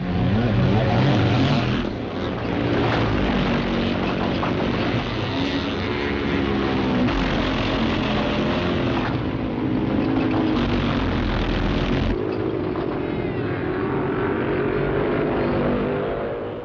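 Scrambling motorcycles race around a rough cross-country course at a 1967 event. Their engines make a loud, continuous droning roar that swells and fades slightly, muffled and dull like an old film soundtrack.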